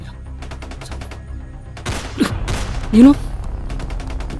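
Gunfire sounds in the distance as a quick burst of sharp shots, loud against background rustle, while a person speaks briefly nearby.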